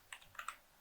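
A handful of quick, faint keystrokes clatter on a computer keyboard while someone types a Python program, irregular taps in a quiet room.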